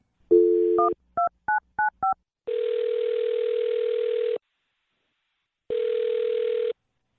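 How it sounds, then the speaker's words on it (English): A telephone number is keyed in as a quick run of DTMF beeps, a long steady tone follows, then a pause and another long tone, all clear and close with no voices. "I'll dial her phone number right now"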